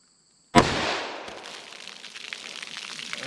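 .357 Magnum revolver with a 2-inch barrel firing a 180 gr SJHP round, a single sharp, loud gunshot after silence, trailing off in a long echoing decay.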